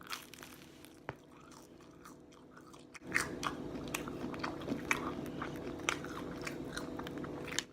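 Close, quiet chewing of a burnt tortilla, with a sharp bite and soft crunching that turn into steady, repeated crisp chews over low room noise, with no talking.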